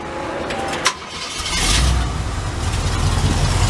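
A 1960 Ford pickup engine cranks briefly, then catches and roars to life, settling into a loud, rumbling idle up close.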